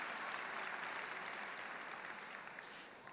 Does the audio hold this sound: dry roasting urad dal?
no